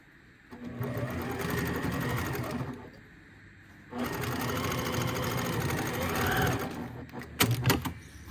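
A sewing machine stitches a Monopoly house tissue box cover in two steady whirring runs split by a short pause, followed by a few clunks of handling.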